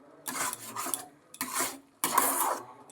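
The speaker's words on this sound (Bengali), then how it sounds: "এইবার সমানে এটাকে নাড়বো খানিকক্ষণ" Carrot firni being stirred in a pan, three separate bursts of rough scraping and rubbing, close and moderately loud, with short pauses between strokes.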